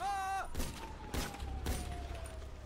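Gunfire in a video game shootout with police, heard as a few sharp, loud shots spaced apart and followed by lingering noise, with a tonal sound fading out at the start.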